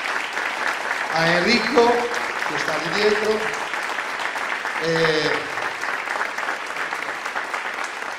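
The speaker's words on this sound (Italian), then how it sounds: "Farei un grosso applauso a tutte e quattro" An audience claps for new singers joining the Les Hirondelles choir, steady broadband applause running the whole time while someone talks over it in short bursts.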